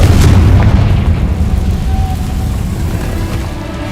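In the video game Hogwarts Legacy, a Confringo explosion spell sets off a loud, heavy boom at the start that rolls into a long, rumbling decay across the whole clip.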